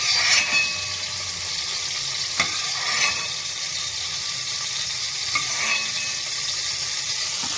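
Ridge gourd fries in hot oil for a North Karnataka-style stuffed dish, giving a continuous close sizzle with a few faint clicks and stirring scrapes over it.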